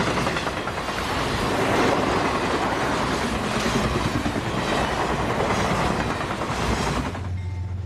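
An Amtrak passenger train rushes past on the Hudson Line beside the Hudson River, a loud, steady roar with rhythmic wheel clatter for about seven seconds before cutting off abruptly.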